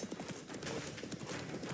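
Hooves of the horse Roach clip-clopping at a gallop in The Witcher 3, a rapid steady rhythm of soft thuds, faint and brief.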